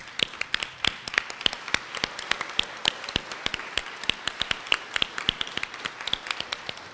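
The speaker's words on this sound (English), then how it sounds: "we all stand and give a round of applause for our graduate student" A graduation ceremony audience stands and claps for the graduates, a steady run of many sharp, distinct hand claps that is moderately loud and holds throughout, with no one talking.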